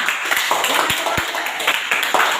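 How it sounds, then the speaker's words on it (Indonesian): Students in a classroom give a round of scattered hand claps, with a few sharp individual claps standing out from a loose patter. Voices murmur underneath throughout. "Oke, terima kasih, tepuk tangan."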